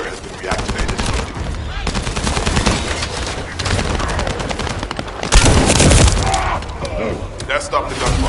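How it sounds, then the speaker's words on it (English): Sustained rapid gunfire rattles through a firefight in The First Descendant video game, with heavy bursts and a louder booming stretch near the end, while a voice talks over the shooting. "That stopped the gunfire."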